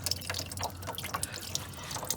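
Fluid draining from the opened 19 mm engine drain on a Mercedes W124 during a head gasket job, a close, continuous trickle with drips and splashes.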